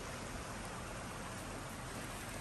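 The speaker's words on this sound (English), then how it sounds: "And the rain has almost subsided too" Light, steady rain falling outdoors around a yard drainage setup with downspout extensions and a swale, a soft continuous hiss with no talking.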